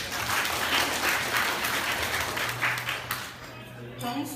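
Guests at a class reunion of former schoolmates break into steady group applause, a dense wash of clapping that fades out in the final second as a voice begins to speak.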